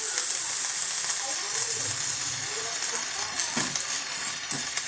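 Moringa leaf thoran cooking in a pan, a continuous hiss of frying with a few soft scraping stirs and clinks, close and steady.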